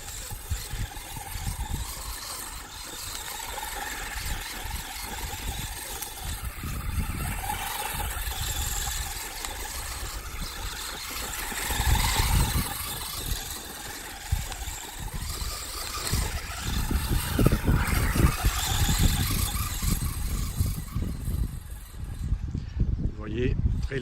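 A T2M Pirate Sniper brushless RC car driving below full speed, with a steady motor whine and rattle, loud throughout and rising toward the end, under someone talking.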